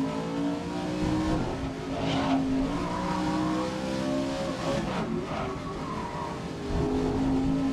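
In the racing game GRID 2019, a race car's tires squeal through a corner over a droning, revving engine, loud and continuous.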